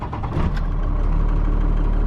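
A low-mileage 12-valve truck engine with stock exhaust idles close by, a steady deep rumble with an even rhythmic knock running throughout, no voices.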